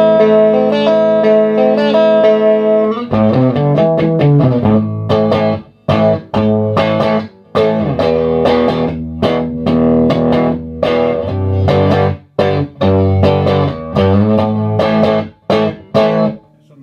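Guitar played through a vintage 1973 Traynor YGM-3 valve combo amp with boost on, bass at maximum, treble about half, no tremolo or reverb; loud, driven chords and riffs ring alone with choppy stops and restarts.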